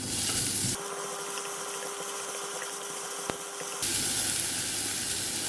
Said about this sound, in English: So I'm just putting a little bit of chicken from here in.